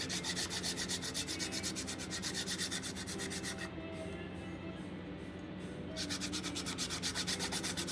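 A chalk plate, the kind used for marking lines on a ballfield, being ground down with steady rhythmic rubbing strokes that pause midway, then resume, close and moderately loud.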